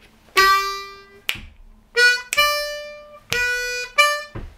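A harmonica plays a bass line in a lazy, swinging rhythm of short draw-note bursts, several clear reedy tones starting and stopping with small gaps, close and alone.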